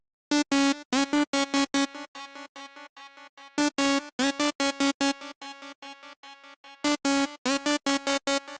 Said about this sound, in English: This is the Kiss lead from my Remote Serum Bank